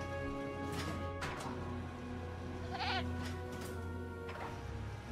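A goat in the Jurassic World Evolution video game bleats several times over a constant low mechanical hum, the quavering cries clear and moderately close.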